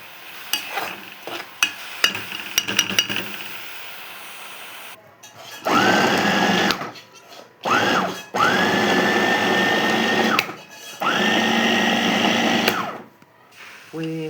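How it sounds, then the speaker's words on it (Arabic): Electric blender whirring through greens and hot peppers for an Egyptian omelette mix, several loud pulses of a few seconds each with brief stops, preceded by kitchen clatter and talk. "هضرب الخضره والفلفل مع بعض وهرجع لكم تاني"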